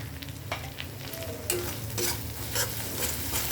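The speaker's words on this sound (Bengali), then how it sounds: "হলুদ আর লবণটা ভালোভাবে মিশিয়ে দিয়েছি" A spoon stirs turmeric and salt into raw hilsa fish in a pan for a Bengali mustard-paste curry, giving scraping strokes over a steady low sizzle with no voices.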